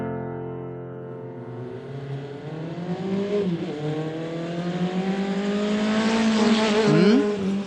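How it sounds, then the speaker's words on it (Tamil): A motorcycle ridden recklessly: a steady engine drone that rises in pitch and slowly grows louder as it revs and approaches, with a sharp pitch swoop near the end. "மோட்டார் பைக்கை இப்படி கண்ணா பின்னான்னு ஓட்டிக்கிட்டு வர்றது?"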